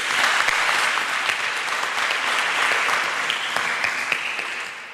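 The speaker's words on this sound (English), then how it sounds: "I think they all need a round of applause." Warm, full applause from a seated audience at a university conversation event, a broad wash of clapping that holds steady before easing slightly near the end.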